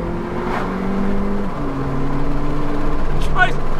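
A Volkswagen Polo GTI hot hatchback driven hard gives a steady, close engine drone that holds, then steps to a higher pitch midway as it pulls on, with a faint voice briefly heard.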